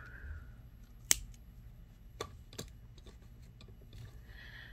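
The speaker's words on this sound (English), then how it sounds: "I'm going to cut this right here" Scissors snipping beading cord while making an anklet: a single sharp, close cut near the start, followed by a few softer clicks and handling noises in a quiet room.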